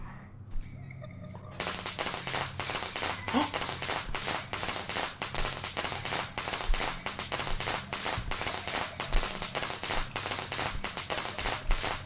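In the horror game Shadow Corridor, a string of firecrackers pops in rapid, sharp, loud cracks for about ten seconds, with people talking at times.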